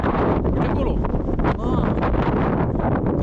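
Strong wind on a ski slope roars continuously across the microphone, loud and unbroken for the whole stretch.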